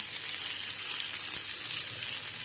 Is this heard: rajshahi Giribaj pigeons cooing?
no